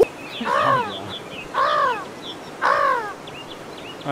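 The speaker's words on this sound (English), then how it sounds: "Oh, now there's more birds?" Birds caw in the forest of the video game Escape from Tarkov, three loud, harsh calls spaced about a second apart, each a short burst of croaking notes over a steady ambient hiss.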